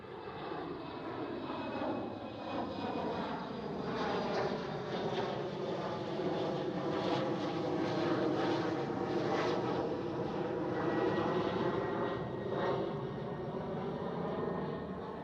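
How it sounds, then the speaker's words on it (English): A KLM Cityhopper Embraer E190 jet climbs steeply after takeoff from Schiphol, its engine roar steady and loud throughout with a broad rushing tone and a slowly shifting whine. "That's a KLM Cityhopper in E190. If you look at those winglets, it's going straight up."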